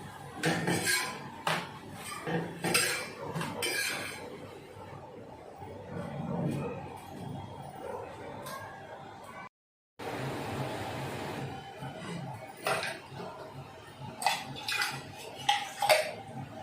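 A frying pan and kitchen utensils are handled in a home kitchen, giving repeated close metallic clinks, clatters and scrapes, with a brief silent gap partway through.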